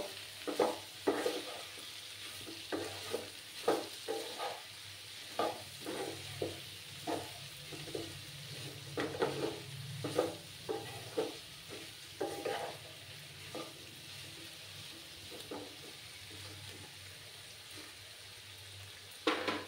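A spoon stirs salt into a radish and vadi curry in a pan, scraping and knocking at irregular intervals over a faint simmering sizzle, fairly quiet, with no talking.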